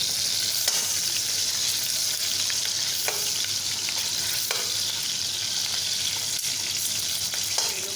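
Potato peels fry in hot oil with a steady, loud, close sizzle that runs the whole time, broken by a few short spatula scrapes against the pan.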